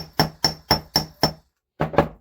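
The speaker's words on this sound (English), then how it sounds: "put it on a block and then just start hitting it with a hammer in the same place" A hammer strikes wire laid on a block, five sharp, evenly spaced metallic blows, then a short pause and two more quick hits, close and loud.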